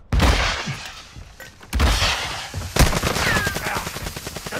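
Gunfire in the Warzone video game, loud bursts of close automatic fire in several volleys with a rapid crackling stream toward the end.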